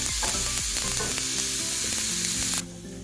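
Onions sizzle steadily in oil in a hot pan while a utensil stirs them with scattered scraping clacks, a dense close frying hiss that cuts off sharply near the end.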